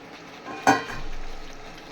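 Chopped liver tipped into fried-down spice paste in a pan, then stirred: one sharp clatter as it lands, followed by a soft, steady sizzle with faint stirring scrapes.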